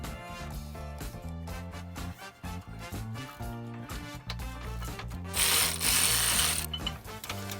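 Rapid ratcheting clicks from a wrench removing bolts at the rear wheel bearing area of a 1989 BMW E30 325i convertible, in repeated bursts with brief pauses, close up, followed by a louder hissing burst.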